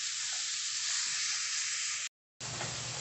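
Ground beef for picadillo frying and being stirred in a pan, giving a dense, loud, continuous sizzle up close that cuts to brief silence before the sizzling resumes.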